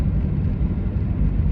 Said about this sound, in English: the engine's not sounding great either.